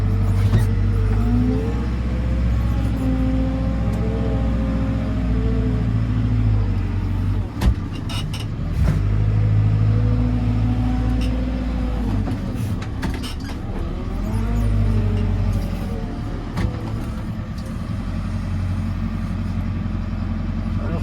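A JCB 4CX backhoe loader's diesel engine runs steadily and loudly close by while levelling stone, with a continuous low rumble and a few brief knocks and clunks from the working machinery.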